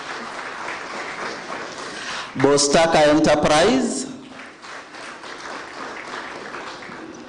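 A crowd applauds in a steady, moderate patter while a voice speaks over it briefly near the middle.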